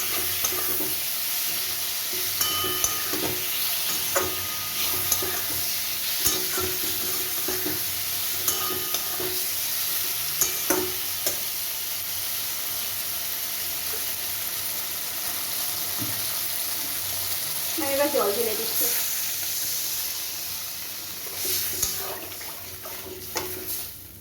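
A pan of thin hilsa fish curry with eggplant, turmeric and a pinch of sugar is stirred while it sizzles gently; the soft frying hiss runs continuously with scattered scraping clicks and no talking.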